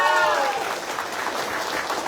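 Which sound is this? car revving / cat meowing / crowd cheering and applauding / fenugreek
crowd cheering and applauding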